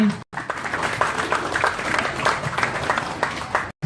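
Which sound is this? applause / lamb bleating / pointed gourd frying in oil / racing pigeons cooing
applause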